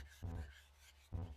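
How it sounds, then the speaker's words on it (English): Two short rasping rubbing strokes of a cloth working a thin layer of oil onto metal parts for an electrolysis tank build from scraps, close and fairly quiet with a pause between passes. "you just want to rub that in real thin layer like"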